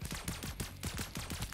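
Rapid bursts of gunfire from a fish-piloted robot shooter on Android, several quick shots in a rough, uneven rhythm, loud and close, with no talking.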